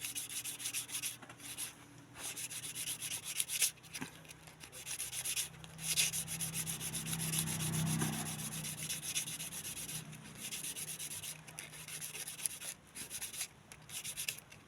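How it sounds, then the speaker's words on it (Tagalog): Sandpaper, 120 grit, scratching back and forth across a surface in steady rubbing strokes, a dry abrasive hiss that continues for the whole stretch, with no voices. "dito ko muna siya kinukuskus sa 120 na liha"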